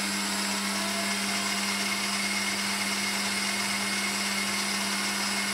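A stand mixer's whisk runs at steady speed beating Italian meringue while hot sugar syrup is poured in, giving a constant, fairly quiet electric motor whir with no breaks.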